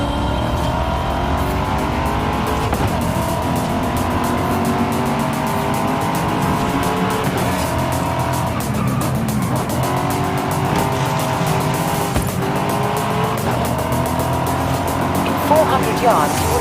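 A race car in Forza Horizon 5 roars along with a continuous revving engine and occasional tire squeal, loud and unbroken throughout, with a voice speaking over it.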